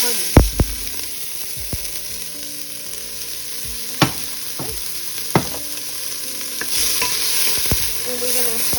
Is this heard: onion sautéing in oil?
yes